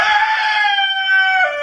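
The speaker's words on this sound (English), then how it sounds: "We are being joined by a couple of chickens." Chickens on a ranch, a couple of birds close by making a sustained, tonal crowing or clucking call that runs unbroken for under two seconds, with no talking.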